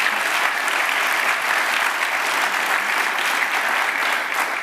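Dense, steady applause from a large summit audience fills the whole stretch, loud and even with no speech over it.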